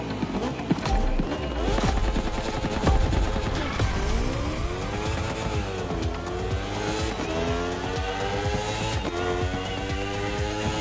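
Racing vehicles at a Red Bull race event roar loud and close, engines revving up and down under long, wavering tire squeals throughout, making a dense, continuous racing din with no voices.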